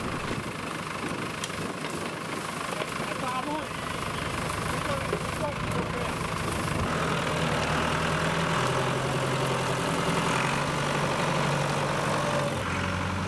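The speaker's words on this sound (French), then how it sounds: "C'est bien un tracteur quand même." A heavy engine idles steadily with a low rumbling chug that never lets up, while people talk faintly over it.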